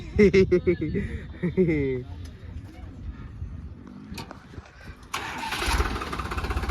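A tractor engine cranks and catches on a farm, starting after a stretch of talk and then settling into a steady, loud running rumble close by.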